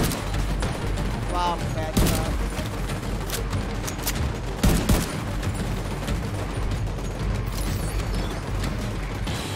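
Dense automatic gunfire and bursts in The Division 2, with a few louder booms, run continuously while someone talks over the shooting.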